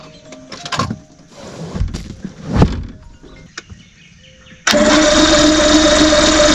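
Johnson 235 outboard motor on a boat being started: a few knocks and clunks, a cranking surge, then the engine catches and settles into a loud, steady running roar.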